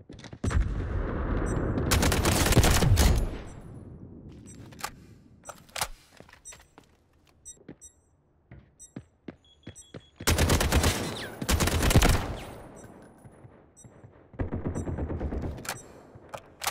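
Rapid automatic gunfire from bots in the Delta Force shooter game, with loud sustained bursts around a corner position, sharp isolated shots in between, and more heavy volleys later; no talking.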